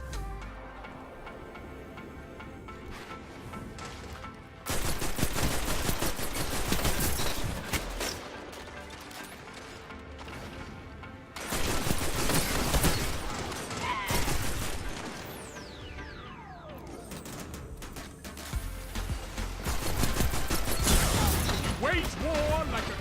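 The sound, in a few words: Gahlran's Right Hand auto rifle firing in Destiny 2 video game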